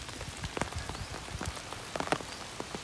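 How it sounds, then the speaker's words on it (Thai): Heavy rain falling: a quiet, steady patter of drops striking a surface, with scattered sharper splats throughout and no voices. "ฝนตกมากขึ้นเลย"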